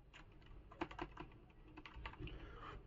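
Keys pressed on a Gamepower Overlord mechanical keyboard with brown switches, a quiet, close run of irregular soft clacks and taps with no talk.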